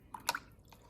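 A paintbrush loaded with blue paint dips into a cup of water, giving a couple of faint, quick drips and small wet splashes, close and quiet.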